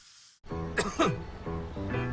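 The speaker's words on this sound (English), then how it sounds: "It's just a cough." After a brief silence, a person coughs twice in quick succession at close range, followed by a low, sustained tone.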